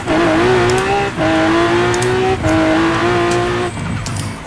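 A 1200 BHP Lamborghini Aventador in Forza Horizon 4 accelerates hard, its engine roaring loud and close through rising revs with brief dips at gear changes.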